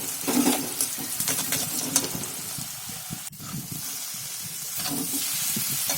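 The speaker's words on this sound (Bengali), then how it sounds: "পেঁয়াজটা হালকা ব্রাউন ব্রাউন কালার হলে তার মধ্যে সেদ্ধ করে রাখা চাউমিনটা দিয়ে দেবো।" Boiled chow mein stir-fried with browned chopped onions in hot oil, a continuous loud sizzle and hiss under scraping stirs, with one sharp clack of the spatula midway and no talking.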